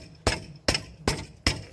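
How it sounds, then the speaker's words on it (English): A hammer taps the front hub of a 2004 Saab 9-3 during hub replacement, four sharp metallic strikes at an even, unhurried rhythm, close and ringing briefly, with no talking. "You can give it a little tap with a hammer if you like"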